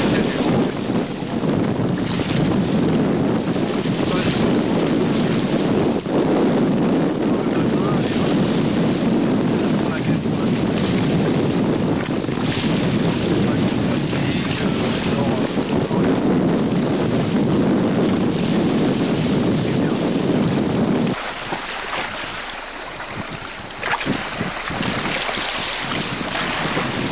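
Steady wind roar and rushing waves surround a Hobie Cat catamaran crossing the Atlantic in 1986, loud and continuous throughout, easing slightly near the end.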